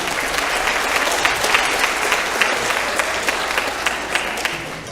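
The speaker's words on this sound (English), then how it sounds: "let's give a round of applause for the symphonic band" A middle school fall concert crowd applauds the symphonic band, a full, sustained roar of many hands clapping at once, steady and loud for the whole stretch.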